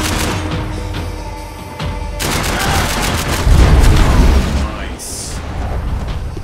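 A powerful gun fires in Max Payne 3, heavy booming shots and rapid bursts layered over loud game noise and a deep rumble, with a bright ringing burst near the end.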